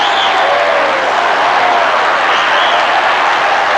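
A boxing crowd at the Muhammad Ali versus Ken Norton heavyweight title fight roars and applauds in a dense, sustained wall of cheering and clapping that stays loud throughout.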